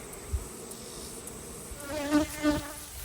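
Honey bees hum and buzz around an open beehive during a hive inspection, a steady close drone that swells louder toward the end.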